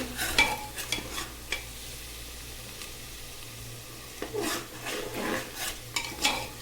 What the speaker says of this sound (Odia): ଆମେ ପିଆଜଟାକୁ ଗୋଲ୍ଡେନ୍ କଲର୍ ହେଲା ଏମିତି ଆମେ ତାକୁ ଭାଜିବା